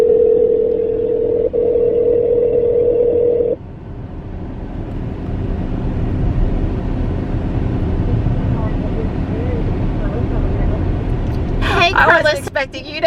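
A steady electronic call tone sounds from a phone calling a bakery inside a Tesla for a few seconds, then cuts off, leaving low road and cabin hum.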